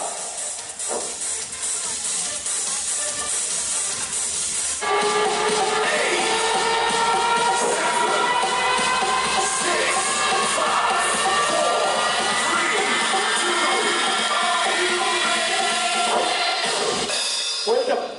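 An audience at a stage magic show at Nazrul Mancha claps in sustained, loud, dense applause with crowd noise and some shouting, which swells after a quieter opening few seconds and carries on to the end.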